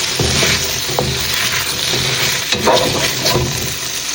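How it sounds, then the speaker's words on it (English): Food sautéing in a pan for a Jamaican pepper steak, a steady broadband sizzle with occasional stirring scrapes and clinks throughout, close and fairly loud, no voices. "Saute for a minute."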